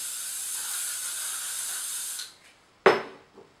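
Hairspray hissing from an aerosol can in a long steady spray, then a short sharp burst after a brief pause.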